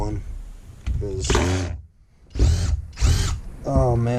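A power drill whirs in several short bursts, close and loud, between pauses, while someone talks during work on scrapping a vintage Superscope stereo unit.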